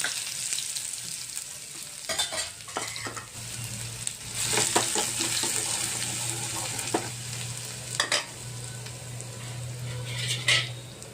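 Green chillies and a garlic clove for a tadka sizzling in hot oil, a quiet steady crackle and hiss with a low hum underneath, punctuated by stirring clinks and scrapes of a utensil against the pan.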